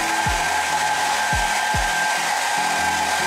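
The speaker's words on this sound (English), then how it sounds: "we blow dry our hair" A hair dryer blows hair dry with a steady, close, loud broadband whoosh running throughout, a constant whine on top and a few low thumps as the dryer is moved.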